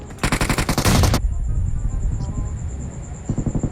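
Rapid full-auto bursts from a UMP submachine gun in the video game PUBG, one long loud burst then a shorter burst near the end, with a quieter gap between.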